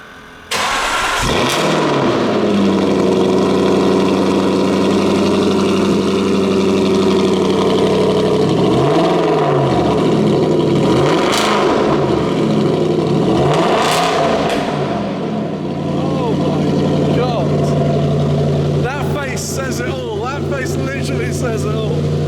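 A car with a factory titanium exhaust cranks and fires up, then revs repeatedly in sharp rising and falling bursts before settling to a rumbling idle, loud and close, with people talking briefly near the end.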